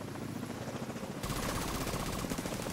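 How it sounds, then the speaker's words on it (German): Helicopter in the video game The Division 2 approaches with a rapid rotor chop that grows suddenly louder midway, set against in-game ambience with no talking. "Jetzt wird nochmal Helikopter kommen, glaube ich."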